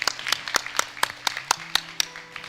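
An audience at an esports tournament gives light, scattered applause, individual claps standing out sharply in a steady irregular patter for a couple of seconds.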